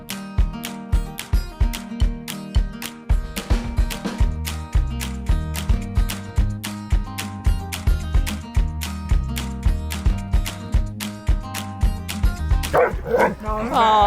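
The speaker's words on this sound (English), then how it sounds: "No barking." Dog barking repeatedly in short rhythmic bursts, close and loud, with yips and a brief whimper, while a person speaks soothingly over it.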